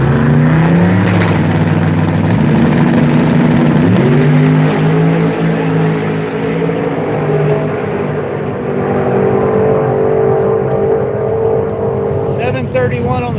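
Two Chevy drag cars, a Chevy II and a '56, accelerate hard down the strip at a drag racing event, loud rising engine roars with gear shifts that slowly fade into the distance.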